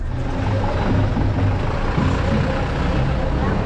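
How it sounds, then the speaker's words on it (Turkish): Steady low engine rumble of a bus underway on a journey in Colombia, a continuous loud droning hum with road noise and no clear breaks. "iki buçuk saatlik bir otobüs yolculuğumuz başlıyor"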